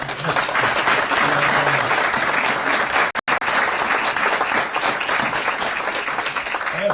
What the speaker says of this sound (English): I think we all owe Amgen another round of applause